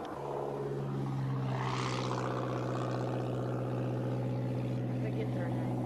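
A vintage car engine runs after repair during the 1987 Great American Race, a steady close droning idle with a rough, buzzing, propeller-like tone that persists throughout, with muffled voices underneath.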